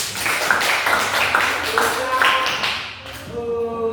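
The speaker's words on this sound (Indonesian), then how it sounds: "Tepuk tangan dulu." Students at a school give a brief round of applause, a short burst of rhythmic, close-sounding claps lasting a few seconds before fading, with a voice speaking near the end.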